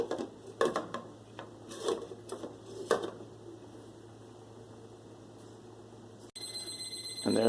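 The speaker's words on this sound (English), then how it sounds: "And there's the timer." A kitchen timer goes off while potatoes boil: quiet room noise with a few soft knocks at first, then an electronic ringing that starts abruptly in the last second and continues clearly.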